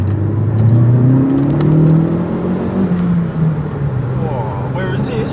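A Vauxhall Corsa VXR engine pulls hard under acceleration from inside the car, a steady loud rising drone with whirring tones, easing slightly before holding on.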